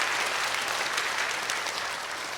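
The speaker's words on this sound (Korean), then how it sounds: "축복하는 박수 한번 올리십시다." Church congregation at a summer retreat worship service breaking into applause, a dense, loud, sustained burst of many hands clapping at once with no break.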